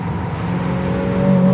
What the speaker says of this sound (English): There's that exhaust Brady likes